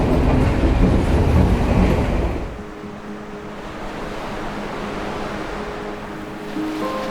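A train rumbles loudly past the railway line beside Galle Face beach in Colombo, Sri Lanka, then fades after about two seconds, leaving the steady roar of sea waves and a faint distant horn.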